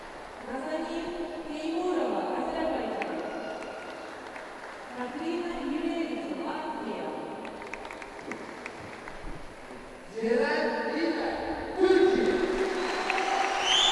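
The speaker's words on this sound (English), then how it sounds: "And a huge cheer, as you'd expect, from the home crowd for their home athlete." Spectators at a women's vault and men's pommel horse World Challenge Cup event in Mersin roar and cheer for a home athlete, the crowd noise swelling loudly near the end, with announcers talking over it throughout.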